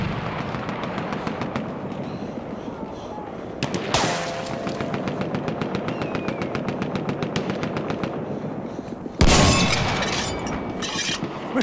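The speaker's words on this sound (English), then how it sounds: "Machine gun over there!" Rapid machine gun bursts rattle through a Battlefield 1 multiplayer match, sustained rhythmic fire broken by louder bangs and a heavy blast near the end, loud and close.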